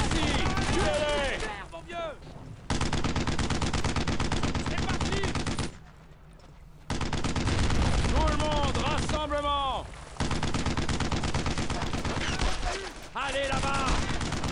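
Rapid machine-gun bursts and heavy artillery fire from the Brothers in Arms: Earned in Blood WWII battlefield, dense and continuous with short lulls, while soldiers shout over the din.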